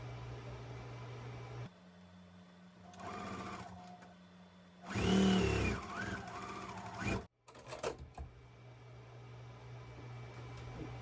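A sewing machine stitches a quilt block in short runs, its close whirring motor rising loud in the middle burst and then stopping with a few brief clicks, against a steady low background hum.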